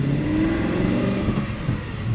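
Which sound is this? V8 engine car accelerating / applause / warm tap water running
V8 engine car accelerating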